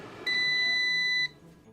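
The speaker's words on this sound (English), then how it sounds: "as soon as you hear the beep" A single sustained electronic beep from an air fryer signalling that cooking is finished, lasting about a second, steady tones over faint room noise.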